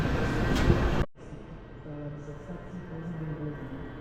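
A train at Wrocław Główny station, a loud broadband rumble for the first second cutting off abruptly, then a quieter steady hum with tonal whine from the standing or slowly moving carriages.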